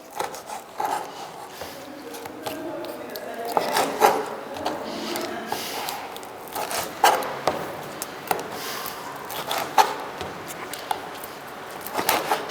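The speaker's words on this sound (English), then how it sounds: "So we are going to dehead all of them." Prawns being deheaded by hand, giving soft wet snaps and rustles at an irregular pace, with light clatter nearby.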